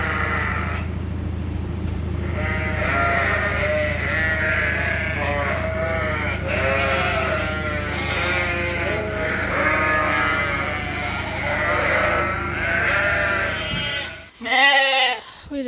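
Sheep, including Dorset rams and ewes, bleat over and over inside a long barn, a dense overlapping chorus of close and distant calls that carries on throughout and ends in a few loud, nearby bleats.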